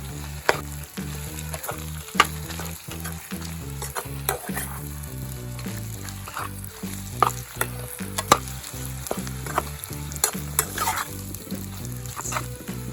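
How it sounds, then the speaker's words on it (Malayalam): Loud, continuous sizzling as pork is stirred with spice paste in a hot pan, with regular scraping strokes and occasional clinks of a spoon. "നമ്മുടെ അരപ്പും ആ ഒരു മീറ്റും കൂടെ നമ്മൾ നല്ലോണം മിക്സ് ചെയ്ത് കൊടുത്ത്"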